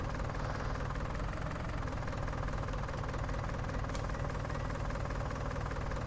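An underpowered 88 hp tractor in Farming Simulator 19 labours under load, its engine a steady, dense low drone with a knocking vibration that holds unchanged throughout.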